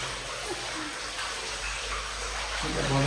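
Water gushing from a pipe as an elderly woman scrubs and washes a temple floor during evening cleaning, the flow fed straight from a motor-driven tap: a steady, close broadband rush of splashing water with faint murmured voices underneath.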